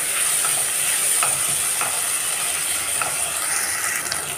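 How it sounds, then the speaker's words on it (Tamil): Tomatoes frying in a pan for veg pulao, stirred with a spoon: a steady close sizzle runs throughout with light scraping strokes repeating every second or so. "தக்காளி கலந்து விட்டுக்குங்க"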